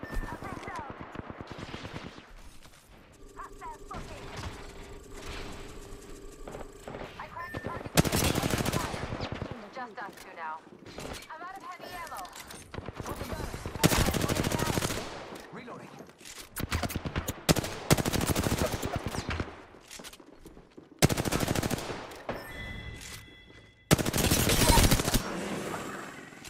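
Gunfire in the video game Apex Legends, rapid automatic bursts and single shots that come and go in loud clusters, with game voice callouts heard between them.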